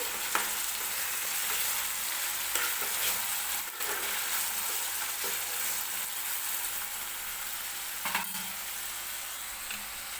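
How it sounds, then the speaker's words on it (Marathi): Onions and other vegetables fry in hot oil for pav bhaji, a steady close sizzle running the full length with occasional scrapes and stirring knocks, with no talking. "तर भाज्या जे आपण कांदा वगैरे आहे ते तेलामध्ये असं भाजून घेतोय."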